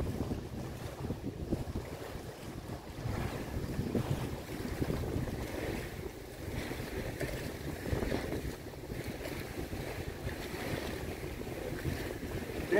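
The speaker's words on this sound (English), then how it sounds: "Now we're getting some waves." Wind buffets the microphone on a boat crossing Lake Okeechobee, with waves sloshing against the hull in a continuous rough, rumbling wash throughout.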